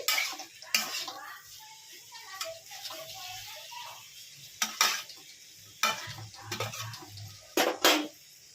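Potato and pointed gourd being stirred in a frying pan with a spatula, scraping strokes coming in a few separate bursts over a faint sizzle, with quiet pauses between them.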